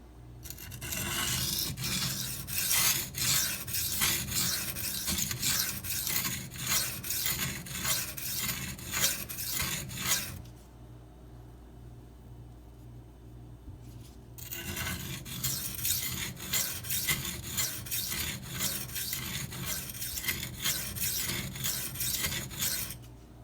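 A Maxamet steel knife blade is stroked repeatedly across a Venev diamond sharpening stone, a steady run of close rasping scrapes with a short pause partway through before the strokes resume.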